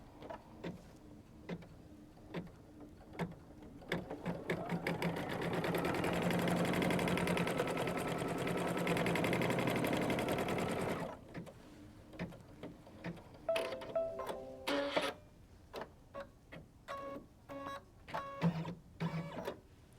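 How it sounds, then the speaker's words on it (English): A sewing machine runs a steady, continuous stitching burst for several seconds along the rind placement line of a Kimberbell quilt, then gives way to short stops and starts with clicks and handling noise. "let's go ahead and stitch the rind placement line"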